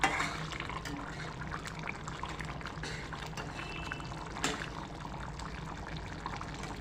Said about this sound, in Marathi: थोडंसं पाणी घालायचं, जास्त प्रमाणात पण नाही घालायचं.